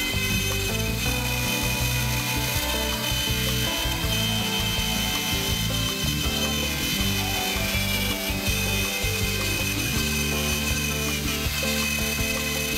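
A wood router carves letters into a sign, producing a loud, continuous motor whine with grinding, rasping texture that stays close and dominant the whole time without any voices.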